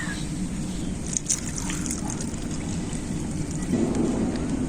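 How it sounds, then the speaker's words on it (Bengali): Water poured onto freshly cut and washed jackfruit in a bowl, a steady close splashing and trickling wash that holds for several seconds without break. "এরপর এঁচড়টাতে জল দিয়ে দেব।"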